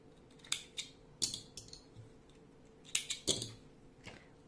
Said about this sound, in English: I am cutting a bit ribbon.